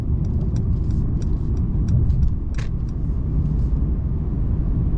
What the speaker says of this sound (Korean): 좌측 깜빡이 켜고 악셀을 밟으면서 자연스럽게 두 개 넘어가겠습니다